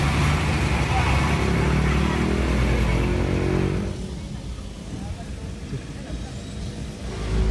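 Unregulated traffic on the Sitinjau Lauik mountain road: vehicles rumble and rev nearby with a heavy engine drone that drops away midway, then builds again as more traffic approaches, with a voice talking over it.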